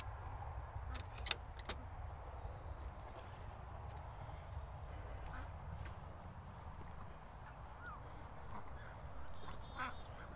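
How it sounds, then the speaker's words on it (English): Fabio, a big breeder duck in a straw-bedded barn pen, gives a few faint, sporadic quacks over a steady low rumble of background noise. "He's called Fabio because he's fabulous. He's a big, beautiful duck."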